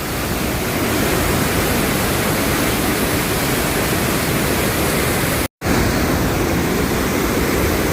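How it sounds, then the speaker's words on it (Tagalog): Loud, steady roar of a powerful waterfall, a dense continuous rush of falling water close by with no voices, broken only by a split-second dropout. "Grabe yung bulog ng falls o."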